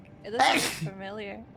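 A single sharp sneeze bursts out close to the mic during a cozy gaming stream, framed by a streamer's talk just before and after.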